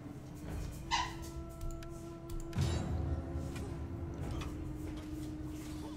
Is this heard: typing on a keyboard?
no